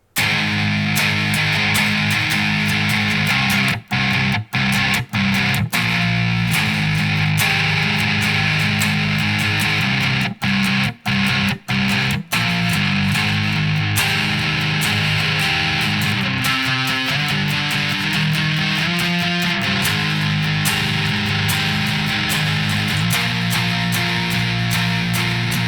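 Distorted electric guitar plays the chorus of a song, a loud, dense, sustained wall of chords with a few short stops and pauses in the rhythm, with no talking.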